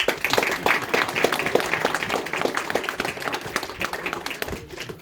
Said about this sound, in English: We want to give them a big clap, please.